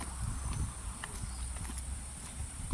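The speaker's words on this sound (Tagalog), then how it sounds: "O, may kalabaw pa dito, oh." Water buffalo hooves walking on a path on Lantau Island, Hong Kong, giving soft, uneven clip-clop steps that stay faint against quiet outdoor background noise.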